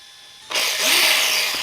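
An RC car's electric motor suddenly spins up after a quiet moment, a loud high whine that swells and holds steady close by.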